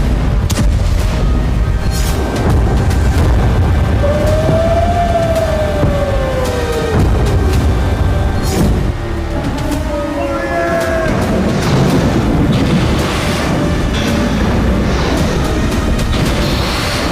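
Explosions and rocket fire during a Hezbollah rocket attack on industrial areas in Israel: repeated sharp booms and blasts through a continuous roar, with rising and falling wailing siren tones in the background.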